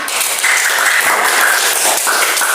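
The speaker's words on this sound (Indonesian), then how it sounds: "Sekali lagi tepuk tangan." Students in a classroom clap for three groups, a loud, close, continuous burst of applause with a faint tonal squeal running underneath.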